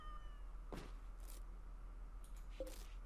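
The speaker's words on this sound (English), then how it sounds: "Oh, kitty." Cat in the video game RimWorld giving a couple of short meows, one early and one near the end, over a low steady hum.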